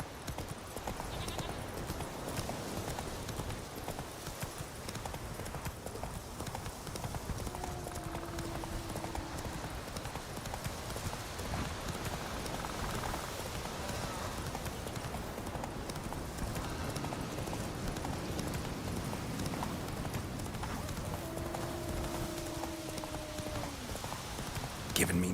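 A horse plods steadily with rhythmic clip-clopping hooves heard continuously at moderate distance, mixed with ambient outdoor noise and a faint voice in the background.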